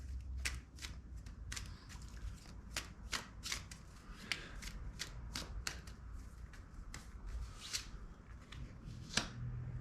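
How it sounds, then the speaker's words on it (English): Tarot cards are shuffled and drawn, giving quiet, scattered riffles and sharp card snaps at irregular intervals against a soft background hum. "Let's just draw a couple more cards out here."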